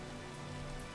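Heavy rain pouring down in the game Minecraft, a dense, unbroken hiss of falling water, steady and fairly loud throughout the short stretch, with no voices.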